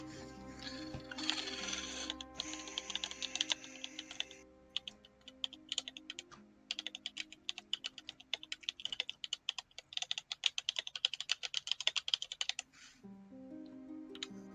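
Rapid, steady computer keyboard typing with dense clicks and short pauses, close and fairly quiet, over a faint background tone during a tabletop role-playing session; no one speaks.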